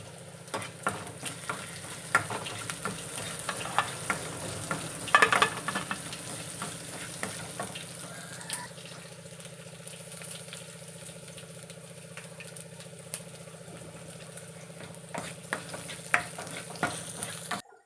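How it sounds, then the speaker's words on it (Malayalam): Onion, mustard seeds and chilies frying in hot oil for a Kerala pumpkin curry tempering, giving a steady soft sizzle with scattered small pops and crackles close by, no talking. "നമ്മുടെ ഉള്ളി, കടുകും മുളകും എല്ലാം മൂത്ത് വന്നിട്ടുണ്ട്"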